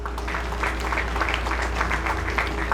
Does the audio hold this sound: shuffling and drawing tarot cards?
no